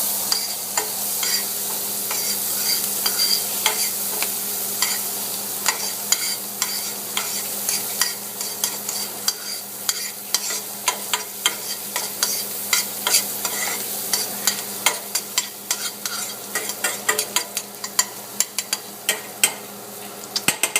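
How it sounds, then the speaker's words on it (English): Butter sizzling and cooking in a pan for a college-style spaghetti, a steady close frying crackle with scattered sharp pops and spoon scrapes that grow busier toward the end, no talking. "grab another chunk of butter, toss it in, and then just let that cook."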